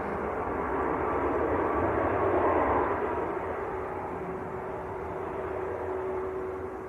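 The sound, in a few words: Ryanair plane from Copenhagen landing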